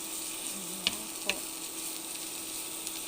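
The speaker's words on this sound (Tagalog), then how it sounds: "Gisa-gisa lang muna ng konti." Chopped tomatoes sauté in a pan with a soft, steady sizzle, broken by two crisp scraping stirs of a utensil against the pan midway through.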